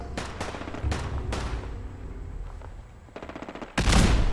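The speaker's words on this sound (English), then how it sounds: "We're rocking with the Gauss rifle right now." A Gauss rifle fires at super mutants in a post-apocalyptic video game, heard as loud, sharp bursts of gunfire that cluster early, pause briefly, then return with a heavy, booming shot at the end, with no talking.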